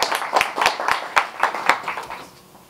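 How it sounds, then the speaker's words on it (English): Scattered clapping at a Dearborn open mic night, a dozen or so distinct claps in loose rhythm from a modest audience, tapering off and fading out toward the end. "applause"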